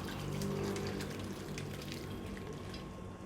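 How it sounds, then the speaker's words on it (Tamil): Arai keerai stem soup poured through a strainer gives a steady splashing, gushing flow of liquid, continuous and fairly close, with no voices over it. "இப்போது வடிகட்டிடலாம்."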